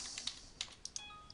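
Keys on a computer keyboard are tapped in a short, irregular burst of soft clicks while someone enters data into project-management software, close and quiet.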